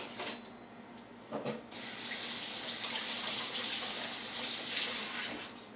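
Tap water pours steadily into a sink while beef is washed by hand. A gushing stream runs loud and close for several seconds after some softer splashing and handling noises.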